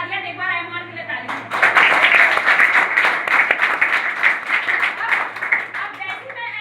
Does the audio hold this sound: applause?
yes